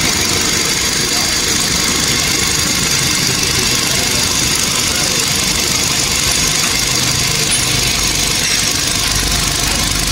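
After its VVT-i cam gear and sludged internals were cleaned, a car engine idles smoothly in a continuous, even drone for about ten seconds, with a voice speaking over the running motor.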